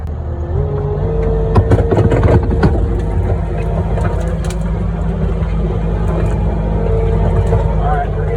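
A heavy excavator's diesel engine works through a muddy track, holding a loud continuous low rumble for the whole stretch while people talk over it.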